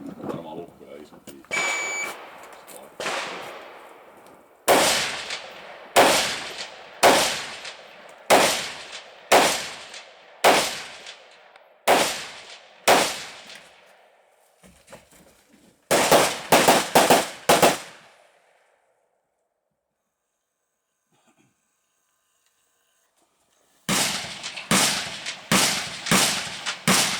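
Sharp, loud gunshots ring out at a practical shooting competition stage, fired in evenly spaced strings and a quick burst, then a pause and another volley, with people talking around them.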